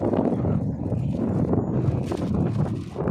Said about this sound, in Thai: ลมค่อนข้างจะแรงนะครับ